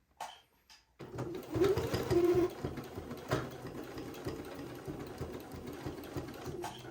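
A sewing machine stitches along a piping line, and after a short pause its fast, steady motor whir and needle chatter run close up and continuously.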